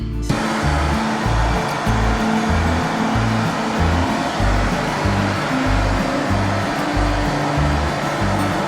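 A torch roars steadily as it heats the steel tip of a homemade fishing gaff hook, a loud continuous hiss that runs unbroken from start to finish.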